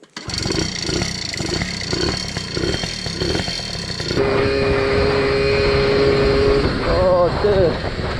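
A Yamaha QT50 two-stroke moped with a 60cc build and an MLM performance exhaust runs loud and close, a buzzing drone that pulses in rhythm, then steadies and rises into a higher, sustained whine.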